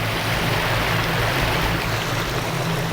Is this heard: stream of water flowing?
yes